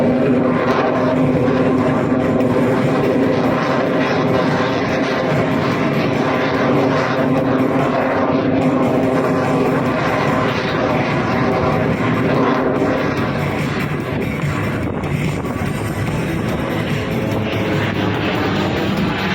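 A Yak 110 aerobatic aircraft hovers at the 2024 Shellharbour airshow as its engine powers up, giving a loud, sustained propeller roar that holds steady throughout, with no speech over it.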